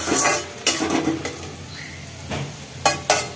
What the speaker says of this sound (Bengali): মশলা দিয়ে মাথা দুটো কষা কষা করবো